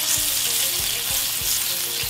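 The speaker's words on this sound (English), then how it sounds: "our butter is done, and we need to start cooking. Oh yeah, sizzling and popping." Fish fries in butter, sizzling and crackling loudly in a hot pan, a constant fry with faint rhythmic scraping underneath.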